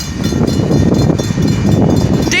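A westbound freight train with a distributed power locomotive rolls by at close range while slowing toward a stop near a road crossing in Morenci, Michigan, giving a loud, continuous low rumble of cars and wheels.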